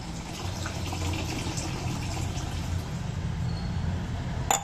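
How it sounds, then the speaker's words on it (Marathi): Water pours steadily into a pot of lentils, a continuous low gurgling fill with a faint clink at the end, no voices. "डाळीमध्ये पाणी ओतते."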